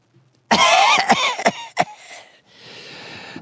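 A person coughs several times in a quick, harsh burst, loud and close. A raspy throat-clearing follows, then the sound trails off into soft background noise.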